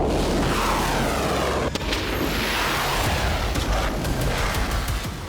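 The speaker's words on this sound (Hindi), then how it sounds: "धमाके के बाद खिड़कियों के कांच टूटते वीडियो में साफ साफ देखे जा सकते हैं।" A missile explosion in Tel Aviv recorded by CCTV inside a nearby building gives a loud rumbling blast, followed by a sustained roar with crackles and sharp transients as window glass shatters.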